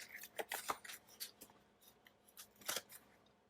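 Scissors snip through a planner sticker sheet in a quick series of crisp, close cuts, with clusters of sharp blade closes and short pauses between them; no voices.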